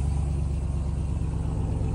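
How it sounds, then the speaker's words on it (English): A Hennessy Mammoth 900 Ram TRX pickup idles on a cold start, a loud, deep, steady exhaust rumble close by with a pulsing low throb. "This is a cold start. Listen to that exhaust."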